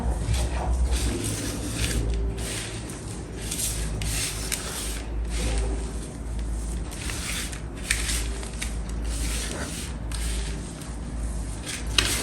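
Semolina laddu mixture being worked and kneaded by hand, giving a steady close rubbing and squishing sound with soft rasps throughout, no voices.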